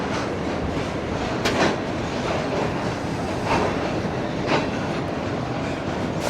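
A Pakistani Tezgam passenger train at a railway platform: a steady loud rumble of rolling wagons with periodic clickety-clack wheel knocks and faint squeals, no voices.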